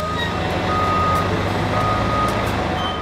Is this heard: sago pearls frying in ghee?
no